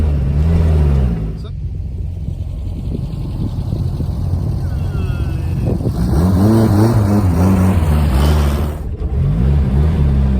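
An old 1972 Volkswagen Beetle's small engine drones and labors close by, revving unevenly as it pulls in second gear, with people talking over it.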